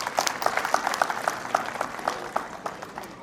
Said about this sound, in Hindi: सभी अभिभावक अपने लिए एक बार जोरदार ताली बजाएं।